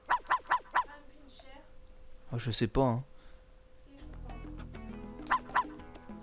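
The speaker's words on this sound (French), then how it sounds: "je m'éclate à japper avec un chihuahua" A chihuahua in the Dog's Life video game yaps in quick bursts, first four rapid yips, then a louder cluster of barks, then two more yips near the end, with someone talking in between.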